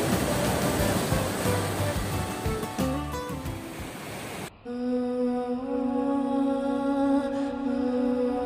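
The Nungnung waterfall in Bali roars as a loud, steady wash of rushing water for about four and a half seconds. It then cuts abruptly to sustained musical tones with no water sound.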